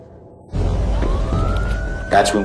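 A police siren starts up and rises in a slow wail, close and loud, with some muffled background noise.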